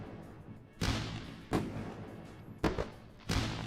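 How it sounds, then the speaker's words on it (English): Fireworks bursts: four sharp, loud booms spaced about a second apart, each with a short crackling decay, no talk. "This one deserves fireworks"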